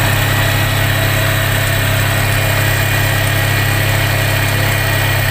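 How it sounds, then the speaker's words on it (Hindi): An engine idles steadily as it warms up, its revs climbing slightly; the drone is loud, close and continuous, with a constant low hum and no voices. "इंजन गर्म होती है तो आरपीएम बढ़ता है, इसीलिए ये बढ़ रहा है अभी।"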